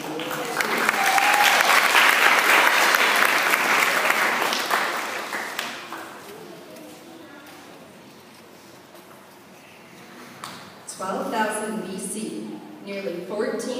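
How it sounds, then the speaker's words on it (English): An audience applauds at a fourth-grade Florida history school presentation, loud dense clapping for about five seconds that fades out, followed by a quiet stretch and then a voice speaking. "Let's give Ms. Lester a round of applause."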